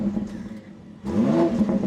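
Engine of a 2025 BMW X3 M50 revving from idle, a loud close rise in pitch about halfway through followed by a steady higher growl, with no talking.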